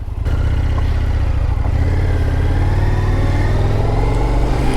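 The deep, loud V-twin engine of an Indian FTR 1200 Carbon R motorcycle rumbles steadily at close range, its low throb holding a constant idle-to-cruise tone without pause.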